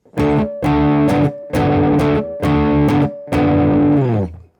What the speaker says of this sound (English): Adding that staccato gives it a little bit of a better feel.